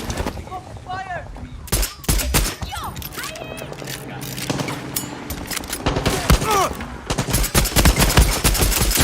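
Repeated gunfire in Far Cry 6, bursts of automatic and single shots crackling through a busy battle with intermittent speech over the top, loud and dense throughout.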